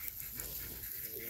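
Puppies panting close by in quick, steady breaths, with a faint whimper mixed into the short burst of dog noise.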